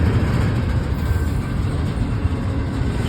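A train rolls past at a train meet near Fosterville, Tennessee, a loud continuous rumble of wheels and railcars close by, steady for the whole stretch with no voices over it.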